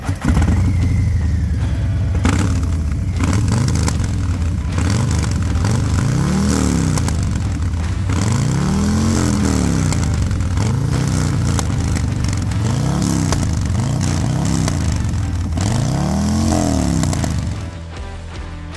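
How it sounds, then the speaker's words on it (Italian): A Harley-Davidson Low Rider ST motorcycle with its flame arrestor removed roars loudly up close, its deep engine rising and falling through repeated revs over a steady idle rumble before easing off at the end. "andremo a sentire il rombo di questa moto."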